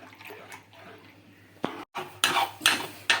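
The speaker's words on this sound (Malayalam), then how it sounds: "എല്ലാം കൂടി മിക്സ് ചെയ്ത് അടുപ്പത്ത് വെച്ച് ഇളക്കുക" Jaggery syrup mixture stirred in a pan on the stove, with scraping and knocking strokes of a spoon against the pan that come in bursts, louder toward the end.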